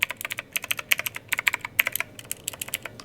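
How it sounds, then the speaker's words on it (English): A Divoom Ditoo pixel-art Bluetooth speaker's clicky blue-switch keyboard being typed on, giving a fast, irregular stream of sharp, crisp key clicks, close and alone. "it's a blue switch keyboard clicky."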